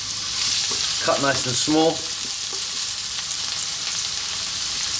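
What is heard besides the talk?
onion dropped into hot sunflower oil, sizzling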